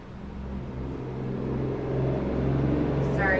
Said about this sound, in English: Sorry about that truck.